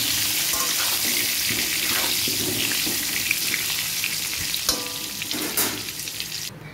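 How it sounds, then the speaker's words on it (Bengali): Potatoes with salt and turmeric fry in oil in a hot wok, a steady close sizzle with occasional stirring clatter and brief utensil knocks, no talking over it. "আলুতে একটু লাল লাল করে আলুটা ভেজে দেবো"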